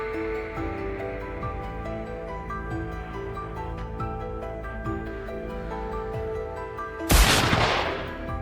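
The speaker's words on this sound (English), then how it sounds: "gunfire echoed from all directions" A single sharp gunshot from hunters going after giant wild boars cracks out loudly near the end, breaking over a steady bed of music.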